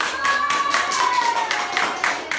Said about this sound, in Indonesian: Boleh tepuk tangan untuk kita.